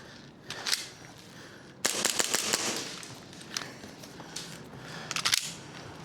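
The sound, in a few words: pistol gunshots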